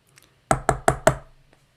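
Four sharp knocks in quick, even succession on a hard surface, loud and close, with near silence around them.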